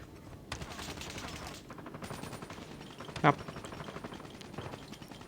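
Rapid gunfire bursts from the Call of Duty video game crackle repeatedly under a dense, busy game soundscape, with one sharper shot standing out midway.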